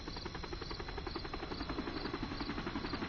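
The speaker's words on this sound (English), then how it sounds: "Lots of choppers coming and going." Rhythmic rotor chop and engine drone of helicopters in a Metal Gear video game, a steady pulsing whir at moderate distance, fairly faint and continuous with no voices.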